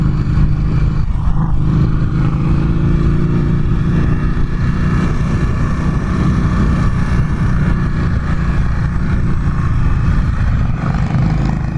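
Indian Scout Bobber motorcycle riding on a road, its engine a continuous loud, close rumble mixed with wind noise throughout, no pauses.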